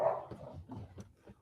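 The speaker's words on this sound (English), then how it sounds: "Hey, there's dogs. We have dogs." Dogs bark and whimper close by in a short burst of yips and low woofs, with a quieter yelp trailing off at the end.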